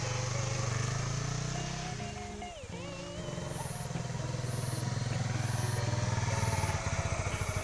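A new motorcycle's engine idles nearby with a steady, pulsing putter, briefly dipping in the middle before settling back to a constant rumble.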